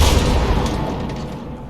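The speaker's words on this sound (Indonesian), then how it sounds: "Meledak." A heavy explosion in the Fallout 76 video game: a loud, broad blast that decays over under two seconds with a rumbling low-end tail, no voices over it.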